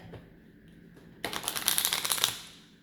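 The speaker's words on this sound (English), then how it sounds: "start shuffling this deck" After a quiet moment, a deck of cards is riffled close up, a quick burst of rapid flutters that settles at the end.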